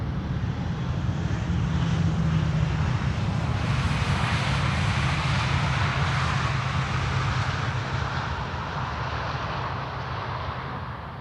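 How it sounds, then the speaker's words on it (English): A KLM Boeing 737 landing on the Polderbaan runway at Amsterdam Schiphol Airport: a loud, continuous broad jet roar that holds steady throughout and eases slightly near the end, with no voices. "KLM 737 in the meantime, landing here in the foreground on the Polderbaan."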